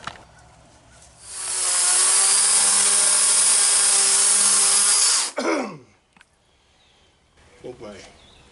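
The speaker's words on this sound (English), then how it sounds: "Chainsaw needs sharpening." A chainsaw needing sharpening roars loudly and steadily for about four seconds while cutting a tree, then winds down and cuts off, followed by quieter rustling and brief movement.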